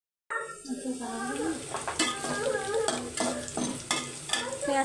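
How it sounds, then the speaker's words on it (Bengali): Onions with green chillies fry in a pan, sizzling steadily while a utensil stirs and scrapes against the metal in repeated sharp knocks, close and continuous throughout. "পেঁয়াজটা হালকা করে ভেজে নেব"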